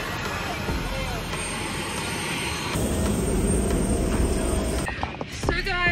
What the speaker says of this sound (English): So guys, we are on the plane now.